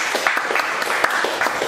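A church congregation claps together during a sermon, a brief burst of rhythmic, fairly even clapping from many hands, close and loud.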